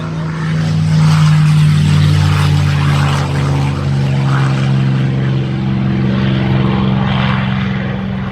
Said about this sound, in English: Flying the Wolf Pitts Pro plane.